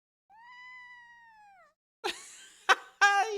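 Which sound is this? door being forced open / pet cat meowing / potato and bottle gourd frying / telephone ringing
pet cat meowing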